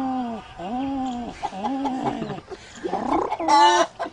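A human voice mimics a pigeon's call with a run of throaty, warbling coos and gurgles that rise and fall, ending in a brief raspy burst, close and moderately loud.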